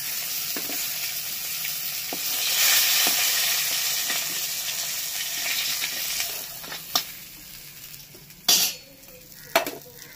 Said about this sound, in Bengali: পুরো লাল করে ভেজে নিতে হবে